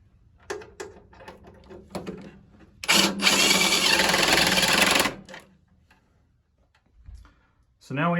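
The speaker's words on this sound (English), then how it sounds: "I'm just going to insert that and then secure it with some sheet metal screws." A power driver runs in one loud, steady whir for about two seconds as it drives sheet metal screws to secure a flue sensor on a UNI 15 boiler, with handling clicks and taps around it.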